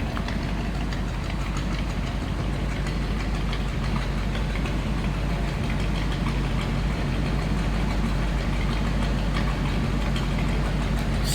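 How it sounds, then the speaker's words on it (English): A 1935 Ford Tudor sedan's flathead engine idles with a steady, close low rumble that holds unbroken throughout, with no talking over it. "A little old school rumble coming out of that flathead."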